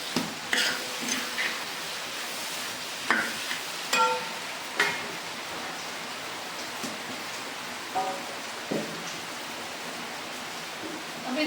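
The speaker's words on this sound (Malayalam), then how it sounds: "ഇതിൻ്റെ വാട്ടർ കണ്ടന്റ് പോകാൻ പാകത്തിന് നമ്മളിത് വഴറ്റിയെടുക്കുന്നു കേട്ടോ" Pickle ingredients sautéing in a pan to cook off their water, a steady soft sizzle with occasional scrapes and clinks of stirring, moderately close and without talk.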